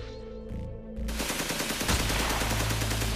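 Gunfire in a TV reenactment: a single shot, then after a short pause a rapid, loud burst of machine-gun fire that rattles on without letup until the end.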